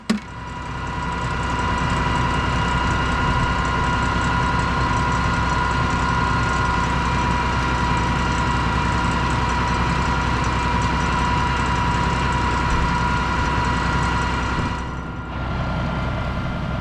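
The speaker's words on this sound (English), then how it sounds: "right, we got the tractor mixing." A tractor's heavy diesel engine runs steadily nearby while mixing a sprayer load, a constant idle-like rumble, loud and unbroken, dipping briefly near the end.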